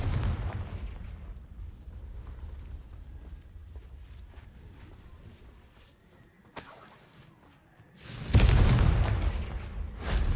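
Confringo fire-spell blast in Hogwarts Legacy, a loud booming burst with crackling debris near the end, preceded by a sharp snap and quieter low rumbling ambience.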